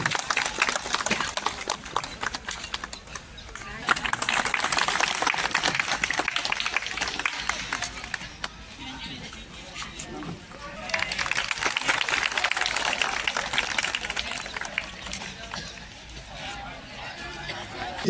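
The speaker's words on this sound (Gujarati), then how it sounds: "આપણે સૌ તાળીઓથી વધાવી લઈશું" Applause at a plaque unveiling during a groundbreaking ceremony for development works in Viramgam, with the crowd clapping in two sustained rounds of steady, dense clapping while a person speaks over a public address system.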